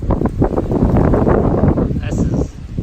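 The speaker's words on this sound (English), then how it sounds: "wind like this is common. Sometimes it just comes through the mountains and this valley here and just whips and whips" Strong wind whipping through a mountain valley, a loud gusting roar buffeting the microphone in surges with rumbling low-end bursts and no pause.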